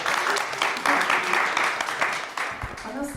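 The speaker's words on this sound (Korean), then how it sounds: "박수로 청해드리겠습니다." An audience at a community radio event in Daegu gives a burst of applause, dense clapping that fades toward the end, with a voice speaking over it.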